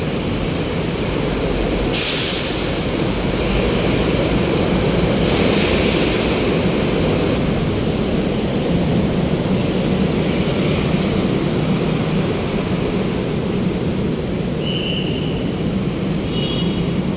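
A continuous loud rumbling roar of a passing MRT train in Manila, broad and steady throughout, with faint higher squeals near the end.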